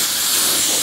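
Compressed air blasting loudly and steadily onto a VW bus rear hatch cargo door panel, a close, continuous hiss filling the whole short moment.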